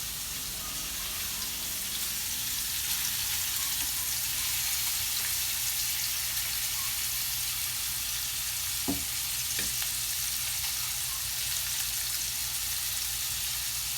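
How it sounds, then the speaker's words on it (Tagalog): Chicken sizzles steadily in a hot pan for creamy chicken mushroom, a constant bright frying hiss with a couple of brief clinks partway through. "I will cook the chicken 2 to 3 minutes in each side."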